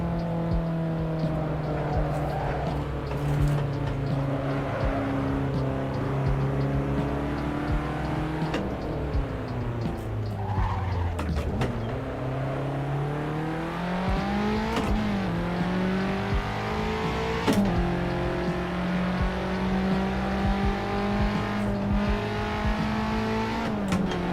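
A car engine in the Assetto Corsa racing game, driven on a mountain touge road, drones and revs steadily, rising and falling through gear changes and corners, with occasional brief tire squeal under the engine note.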